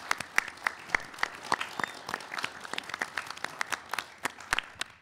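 Scattered, sparse clapping from a small audience for middle school quiz show teams, with distinct individual claps heard separately rather than as a dense roar.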